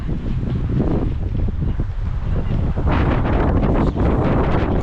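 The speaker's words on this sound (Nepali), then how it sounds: "कस्तो हावा चलेको" Strong wind gusting through a garden in the UK, a loud, steady roar of buffeting air across the microphone that swells slightly toward the end, with no clear voices.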